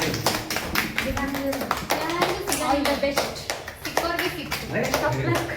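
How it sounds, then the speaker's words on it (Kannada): Loud applause breaks out at a school Independence Day program, with dense rapid clapping from many hands running throughout while children and adults talk and call out over it. "ಜೋರ ಚಪ್ಪಾಳೆ ಬರಲಿ"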